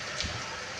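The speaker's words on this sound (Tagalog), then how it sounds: "Lakas ng ulan no." A steady, dense hiss of heavy rain pours without pause in the Lusail area of Qatar, broad and even, with no voices present.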